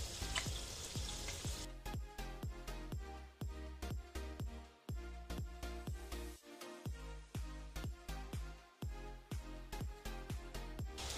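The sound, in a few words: onion frying in a pan for masale bhaat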